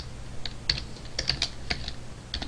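Keys clack on a computer keyboard while Java code is typed, a short irregular run of close, crisp taps.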